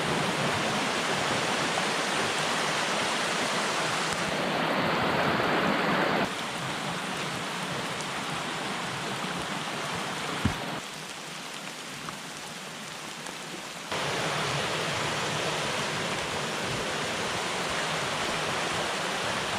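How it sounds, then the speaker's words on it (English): Steady rain falls densely during a cold thunderstorm day at a campsite near a creek, a continuous hiss of drops on surfaces that shifts in tone a few times, with no voices. "it's raining again"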